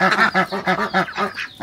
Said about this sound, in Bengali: এগুলো হচ্ছে বেলজিয়াম হাঁস